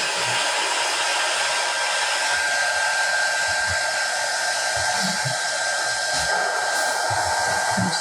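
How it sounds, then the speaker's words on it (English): A hair dryer blows steadily on wet paint on a fabric Hobby Lobby snowman craft, giving a loud, constant whooshing whir that runs unbroken from start to finish with no talking. "I'm just going to dry this up a little"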